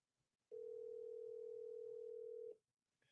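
A single steady telephone tone sounds for about two seconds, clear and alone on a quiet line, then cuts off.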